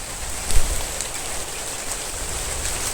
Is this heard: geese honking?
no